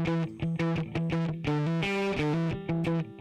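Music run through the Waves Manny Marroquin distortion plug-in, heard as gritty, saturated, rhythmic notes that pulse in a steady pattern, loud and alone with no talking.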